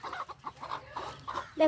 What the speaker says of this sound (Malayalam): കുഞ്ഞു കോഴികള്